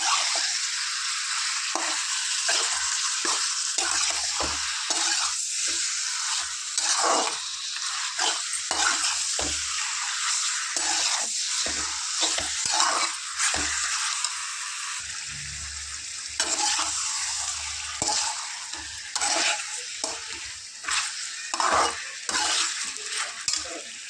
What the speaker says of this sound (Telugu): చికెన్ మంచిగా ఫ్రై చేసుకుందాం